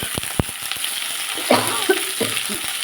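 Ridge gourd, pumpkin, yardlong beans and potato frying in a pan, a soft steady sizzle with scattered clicks and a few stirring scrapes, close by and with no voices.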